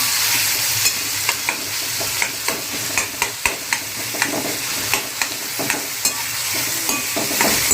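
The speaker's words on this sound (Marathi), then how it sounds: "टॅमॅटो जो आहे ना असा मऊसर होईपर्यंत आपल्याला छान असा फ्राय करून घ्यायचा आहे तेलामध्ये." Chopped tomatoes fry in hot oil for a monsoon kantola vegetable dish, a loud, steady close sizzle broken by regular spatula taps and scrapes about once a second, with no one speaking.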